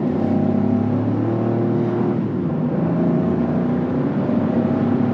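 A 2024 Buick Envista Avenir with a small 3-cylinder turbocharged engine in normal driving, giving a steady low engine hum and road drone that stays even and continuous throughout, with no talk over it.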